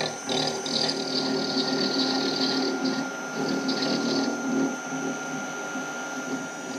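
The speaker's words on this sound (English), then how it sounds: "disengage the half nuts and engage the rapid traverse" A metal lathe runs on rapid traverse while cutting a gear with a dividing head, giving a steady mechanical whine and hum with a faint rattle, moderately loud and close, with no talking.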